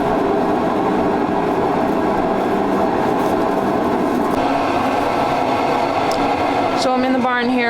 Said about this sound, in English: We have the propane heater going. That's what the noise is.